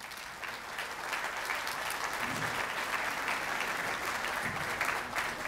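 Steady, dense applause from an audience welcoming a doctor to the lectern at a Spanish-language medical talk, sustained and fairly loud for the whole stretch without letting up.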